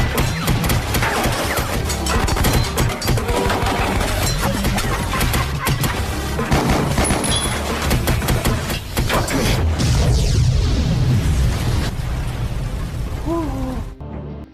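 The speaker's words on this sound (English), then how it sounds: "Pike and Dylan fight back against the mercenaries, using one of the submarine's deck guns." Submarine deck gun fire in a movie fight against mercenaries, a dense, loud barrage of crashing bursts and impacts running almost continuously, with clattering debris throughout.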